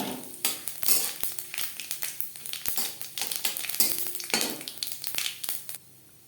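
Dried red chilies, bay leaf and whole cumin frying in hot oil for a vegetarian chana dal, with loud crackling sizzle, bursts of spitting and stirring scrapes up close.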